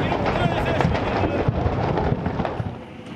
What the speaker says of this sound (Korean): 폭발음까지 들립니다.